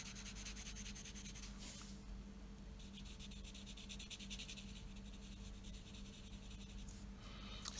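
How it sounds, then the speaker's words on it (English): A colorless blender pencil is worked over colored pencil on paper, making soft, close scratchy rubbing strokes in bursts with brief pauses between them, quiet and without talk. "trying with a colorless blender pencil"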